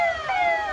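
An ambulance siren wails in a heavy highway traffic jam on the Bombay–Ahmedabad route at Ghodbunder, its steady rising and falling tones continuous and fairly loud over low traffic rumble.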